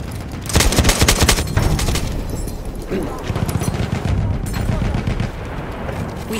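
Perino Model 1908 light machine gun from a World War I game on Achi Baba, firing in rapid bursts amid other gunfire and battle noise, loud and close, with voices heard through the action.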